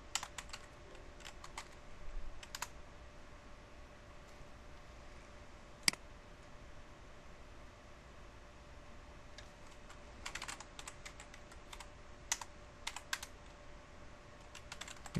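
Router configuration commands typed on a computer keyboard: faint, scattered bursts of key clicks with pauses in between, close but quiet, over a low steady hum.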